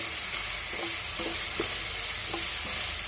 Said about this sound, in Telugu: ఇది కొంచెం సేపు మనం ఇలానే వేగనిద్దాం.